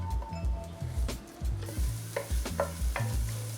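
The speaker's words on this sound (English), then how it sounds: "I want to cook these onions until they're translucent." Onions cook in oil in a pan, giving a soft sizzle with rhythmic stirring scrapes and low knocks of the utensil against the pan, close and unaccompanied by speech.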